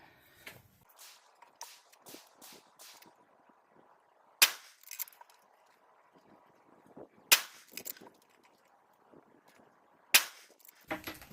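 Sharp, distant-sounding cracks from a Savage Axis 6.5 Creedmoor rifle firing Sellier & Bellot ammunition at a range, three spaced shots with faint rustling and handling noise between.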